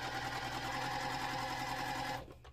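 A sewing machine stitches a quarter-inch seam in a steady, rapid hum that runs for about two seconds and then winds down to a stop.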